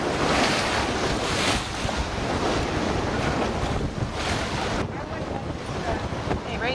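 Wind and surf roar steadily around a sailboat reaching at eight knots with the wind on the beam in the Caribbean; loud, continuous rushing of breeze and sloshing waves with no break.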